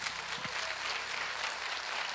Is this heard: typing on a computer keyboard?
no